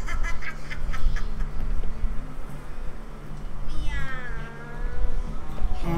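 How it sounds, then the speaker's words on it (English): A cat meows in The Witcher 3 over a busy game backdrop of ambient noise and low hum, with rising tonal calls near the end amid the steady background. "Meow. Meow."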